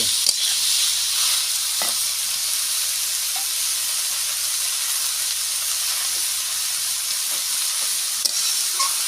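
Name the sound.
bottle gourd added to hot pan, sizzling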